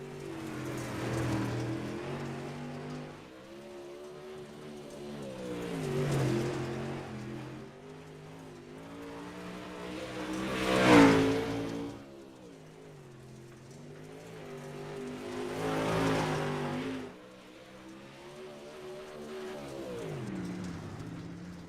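A modified touring race car engine in a sim racing game at Cedar Lake Speedway drones and surges in repeated waves, roughly every five seconds, as the car laps, steady and loud with no talk.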